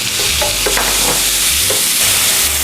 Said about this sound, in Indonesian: kita masukkan bawang yang sudah kita haluskan. Ini bawang merah, bawang putih, dan kemiri